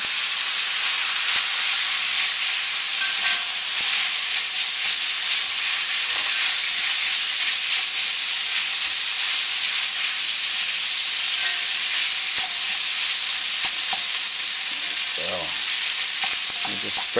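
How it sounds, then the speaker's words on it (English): Ramen noodles sizzle and fry steadily in a hot wok alongside pork, shrimp, scallions and vegetables, a continuous loud hiss with occasional stirring scrapes and no talk. "Just spread those out in a thin layer on the bottom of the wok, and we'll mix in our ingredients."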